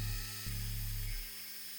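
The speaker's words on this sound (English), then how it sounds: "I could then use a drum sander in the drill press to finesse the correct size." A drum sander spinning in a drill press, used to shape wood and kangaroo leather, gives a steady, high whine with a brief dip, then winds down and falls silent.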